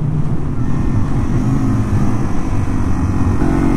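A Yamaha TW 200 dirt bike engine runs steadily and close, a low, continuous rumble holding even throughout with no talk over it.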